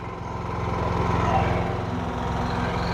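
A Duromax XP9000ih 9000-watt inverter generator runs steadily, warmed up with a 5-ton air conditioner load ahead, its close, even engine drone holding alone without pauses.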